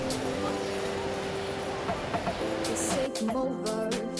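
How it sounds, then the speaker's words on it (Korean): A passenger train runs with a steady rumble and rolling wheel noise, and faint brief tones rise near the end. "많은 사람들이 애용하는 기차."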